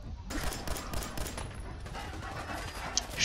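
Rapid submachine gun fire in the Fallout 4 video game, a dense continuous burst of shots lasting a few seconds, loud and close.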